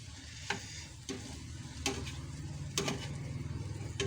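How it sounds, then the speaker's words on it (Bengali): Green chilli and onion fry in hot oil, with a continuous close sizzle broken by several sharp scraping clicks of a spoon stirring the pan. "কাঁচা লঙ্কা, পেঁয়াজ, ঠিক আছে, তেলে গরম করে নিয়েছি।"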